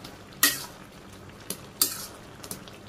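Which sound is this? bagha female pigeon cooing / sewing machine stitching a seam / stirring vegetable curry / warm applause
stirring vegetable curry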